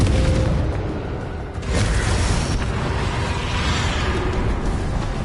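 Fiery spell explosion in Hogwarts Legacy during a dragon fight, a loud dense roaring burst that swells, dips briefly and surges again, sustained booming rumble throughout with no talk.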